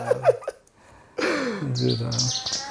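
An albino long-tailed shrike calling, a few short chirps followed by a longer harsh, rising and falling call, close and moderately loud.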